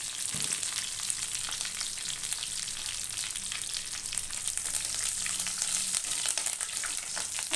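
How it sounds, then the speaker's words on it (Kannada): Mustard seeds and curry leaves fry in hot oil with a steady, dense crackling sizzle that runs throughout, close and fairly loud, with occasional brighter pops and no talking. "ಈ ಸಾಸಿವೆ ಸೇರಿ ಈ ಒಂದು ಸ್ವಲ್ಪ ಕರ್ಬೇವಿನ ಸೊಪ್ಪು ಸೇರಿಸ್ತೀನಿ ನಾನು"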